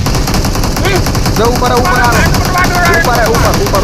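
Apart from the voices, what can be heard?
gunfire in the video game BGMI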